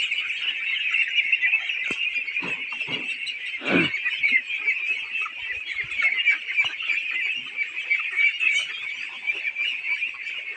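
A dense flock of ducks on a duck farm quacking and honking nonstop, loud and close, a continuous chorus of many birds with occasional louder calls.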